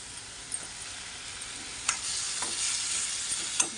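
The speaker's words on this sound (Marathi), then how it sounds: "आता चमचा घेऊन परतून घेते." Brinjal with coconut, coriander, ginger, garlic and cumin is turned with a spoon in a pan, producing a steady bright sizzle with a few clinks and scrapes of the spoon.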